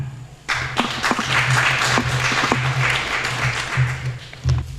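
Applause from an audience at a Polish patriotic poetry recitation as a secondary-school prize winner is called up, a steady, fairly loud patter of clapping with a low hum beneath and a few louder claps near the end.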